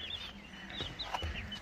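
Chickens and their chicks cluck and peep softly outdoors on a farm, several short calls scattered over a low background hum.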